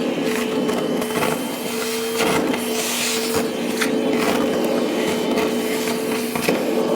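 An automatic dustpan vacuum runs steadily with its hose on the low setting, giving a constant motor drone with a tonal whine that continues for the whole stretch, close by and with no talking over it.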